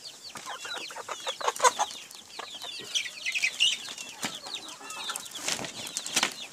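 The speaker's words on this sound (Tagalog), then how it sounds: "Ating papakainin yung mga sisiyo" Chickens and chicks clucking and peeping close by at a backyard flock, busy overlapping calls with occasional wing flaps and sharp chirps, no speech.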